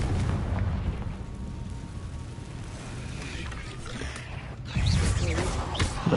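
Fiery spell explosion from the video game Hogwarts Legacy, a broad rumbling boom filling the low end with a sharper burst near the end, no talk over it.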